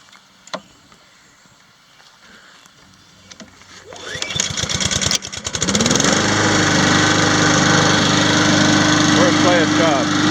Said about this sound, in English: All right, let's go ahead and crank her up.